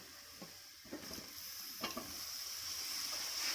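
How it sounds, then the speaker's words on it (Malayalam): Tomatoes tipped into a hot pan of sizzling turmeric give a steady frying hiss with a few soft stirring knocks, close and fairly quiet, with no one talking. "എന്നിട്ട് നമുക്ക് ഇതിനകത്തോട്ട് തക്കാളി ഇട്ട് കൊടുക്കാം."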